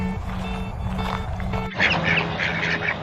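Ducks quack loudly and repeatedly near a canyon, a cluster of nasal calls crowding together over a low outdoor rumble and growing denser toward the end.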